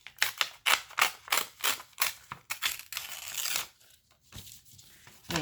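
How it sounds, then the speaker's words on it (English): Paper being torn by hand for an aged edge, a run of short rasping rips in quick rhythmic bursts, close and fairly quiet, then a longer drawn-out tear and a few softer rustles. "But in this case, I'm going to tear this one."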